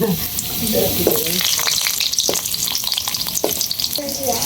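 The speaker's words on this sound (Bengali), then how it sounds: "আগে আলু দিয়ে দিতেছি পরে হলুদ আর লবণ দিয়ে" Potato pieces fry in hot oil with turmeric and salt, a steady loud sizzle with stirring scrapes and clinks; a voice speaks faintly now and then.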